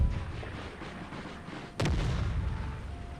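Artillery and gunfire in an Empire 2 strategy game battle: a steady low rumble of distant firing, then one sharp loud boom near the middle followed by heavier continued rumbling.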